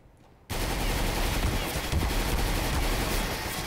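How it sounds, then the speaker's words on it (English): Gunfire bursts out suddenly in Counter-Strike: Global Offensive after a brief quiet moment, a dense, loud rattle of rapid shots through a wall that keeps going with little pause. "Shoot through the wall."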